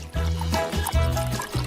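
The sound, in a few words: cooking oil being poured into a pan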